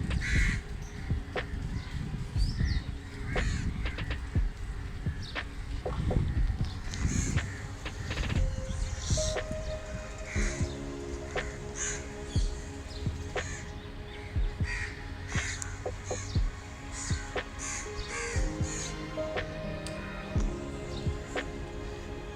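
Crows caw repeatedly from a tree in Ramna Park, some harsh calls close by and others farther off, scattered irregularly over a low outdoor background for over twenty seconds.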